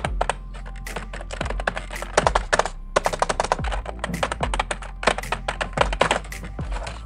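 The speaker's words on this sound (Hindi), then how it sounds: "ये नॉइजी है बिकॉज मैकेनिकल कीबोर्ड तो ऐसे ही होते हैं." Typing on a Redgear mechanical keyboard gives loud, rapid, clacky keystrokes in steady bursts with brief pauses, close to the microphone and free of talk.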